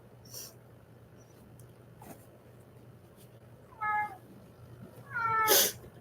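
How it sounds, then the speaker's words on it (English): A house cat gives two clear meows close by, the second louder and longer, against a quiet room with a low steady hum. "Do you hear my cat?"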